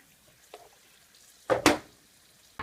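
Thai Chinese sausage (kun chiang) frying in a pan, mostly quiet with a few short sizzling, stirring bursts, the strongest in the middle of the clip.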